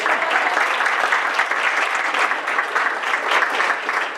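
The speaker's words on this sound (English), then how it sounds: "Thunderous applause, Reedsburg." Audience applause in a hall in Reedsburg, a dense, loud, steady clapping from a crowd that holds for several seconds without voices over it.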